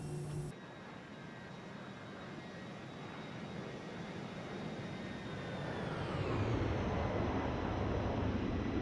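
Airbus A321 jet in a flight simulator game passing by with a steady, broad engine roar that swells louder and lower toward the end, with no talking.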